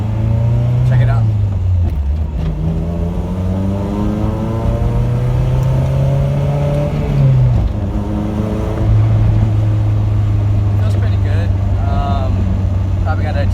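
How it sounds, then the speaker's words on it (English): A K24-swapped Toyota MR2 drives through the gears, its engine droning low and rising in pitch with each pull, then dropping at every shift, heard from inside the car with occasional talk over it. "it's time to go for a ride and just see how it feels, go through the gears"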